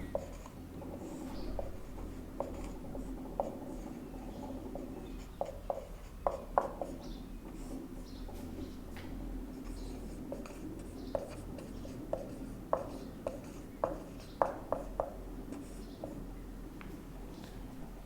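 Pen strokes scratch and tap across paper while a heading is written by hand, short scratchy bursts recurring irregularly over a low steady background hum, with no talking.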